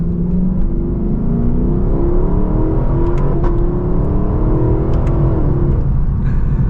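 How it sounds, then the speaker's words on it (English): A Lexus V8 car accelerating hard, the engine revving loud and close with a steady deep roar and climbing pitch, changing tone around shifts. "So let's give it another acceleration here."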